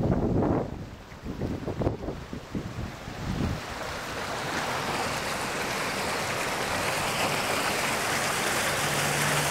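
Rushing water pours through a drained dam in a steady, broad roar that builds and holds after a few brief knocks and rumbles at the start, with no talking.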